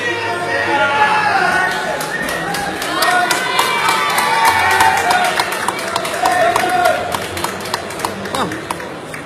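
An enthusiastic crowd at an outdoor bubble-blowing world record attempt: continuous chatter and murmuring with scattered claps and cheers throughout, while someone talks over the noise.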